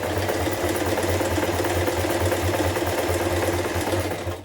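A sewing machine stitches a buttonhole in a fast, even mechanical whir with rhythmic needle pulses, loud and close and continuous for a few seconds before stopping.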